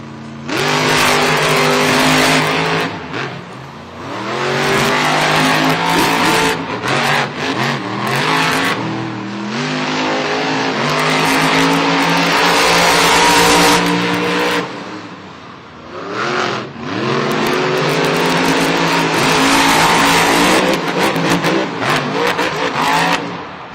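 Monster trucks roar and rev through a race inside a Monster Jam stadium in San Diego, with loud, sustained engine noise that rises and falls as they accelerate, plus brief dips between bursts.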